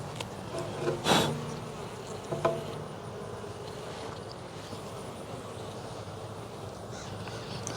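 Worker honeybees hum steadily at an open hive during a September inspection, a soft close drone throughout, with a few louder buzzing passes and faint crow calls in the background.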